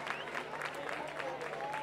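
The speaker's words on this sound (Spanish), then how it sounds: "Fuerte el aplauso para él." Audience at an adult murga carnival show in Santa María de Guía applauds in a continuous, moderately quiet crowd clapping, with voices and shouts mixed into the noise.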